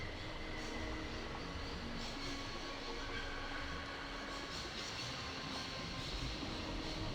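A train rumbles in the video game Syberia, a steady, dense, moderately quiet mechanical drone with faint clanking that continues without a break.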